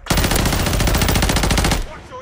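Rapid automatic gunfire rattles in a Call of Duty: Warzone Resurgence match, a dense, loud burst of steady shots lasting nearly two seconds before cutting off.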